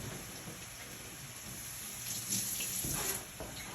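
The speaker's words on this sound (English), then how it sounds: "Just rinse my hands as we get going here." Water runs from a tap while hands are rinsed in a kitchen, a steady close hiss of flowing water that swells briefly as the hands move under the stream, no talk.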